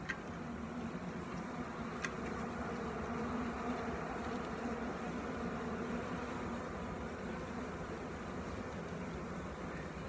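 Honeybees in a hive just opened and smoked give off a steady, dense hum, an even drone that fills the whole stretch without a break, close and constant.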